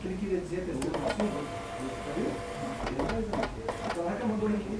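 A Daruma fiscal printer runs off an X reading report in a few rattling, buzzing bursts of print-head activity, heard close up alongside an ongoing steady hum.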